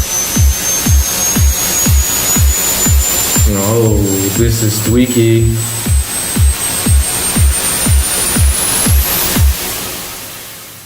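A synthesized noise riser built with an oscillator sweeps steadily upward in pitch over a repeating electronic kick beat, loud and sustained, while someone talks briefly partway through.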